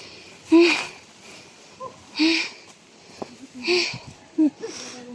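Heavy breathing after a long climb of about 930 stairs: a few loud, ragged breaths with audible rasps and sniffs, spaced unevenly and close to the microphone.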